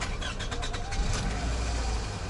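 A Toyota Camry V35 with high mileage has its engine started, with a cranking rattle followed by a low, steady idle rumble, close and continuous, with no talk.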